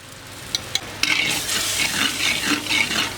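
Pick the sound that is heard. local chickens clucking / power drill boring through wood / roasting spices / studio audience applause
roasting spices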